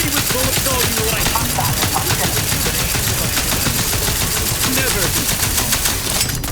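Rapid automatic gunfire in the video game The Outer Worlds 2, dense rattling bursts that keep up almost without pause, loud and close, mixed with game effects and a voice briefly speaking.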